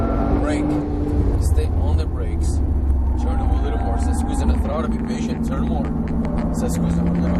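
A Porsche 997 Turbo engine at full throttle on a track, a loud sustained roar with rising engine tones heard from inside the car, while a voice talks over it.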